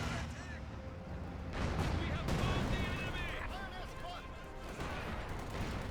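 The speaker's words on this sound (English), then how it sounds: "Panzer IV barrage looks like a roll to miss." Panzer IV artillery barrage in Company of Heroes 2, distant booming impacts and gunfire rumbling through a busy battlefield mix, with a commentator talking over it throughout.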